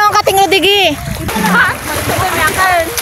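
Water splashes as people swim beside a boat in Palawan, mixing with loud, lively voices of people talking and calling out close by.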